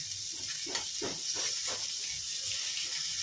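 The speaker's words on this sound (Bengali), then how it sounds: "উচ্ছে ভাজছি" Bitter gourd frying in hot oil makes a continuous bright sizzle and hiss close by, with a few soft stirring or shifting sounds rising briefly through it.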